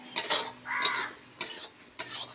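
Rohu fish is fried in a pan, heard as four separate bursts of stirring and sizzling about half a second apart between quieter gaps. A faint low tone runs underneath, and no one speaks.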